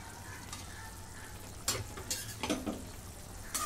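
Chopped boiled eggs stirred into a cooked egg masala in a pan, with a soft steady sizzle and a few brief scraping clinks of the spoon against the pan.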